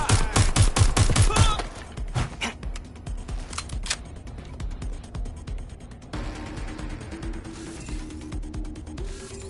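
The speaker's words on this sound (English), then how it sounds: "They're shooting!" Rapid bursts of gunfire open a Watch Dogs Legion firefight, loud and dense for about a second and a half, followed by scattered shots and clicking mechanical sounds over a lower hum.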